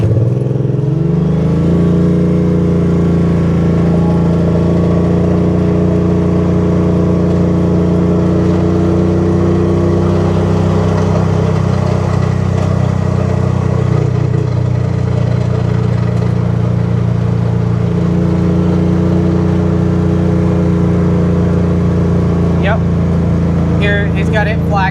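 A vehicle engine runs steadily while driving slowly down a wooded property trail, a loud continuous drone with a low rumble throughout, while people talk over it.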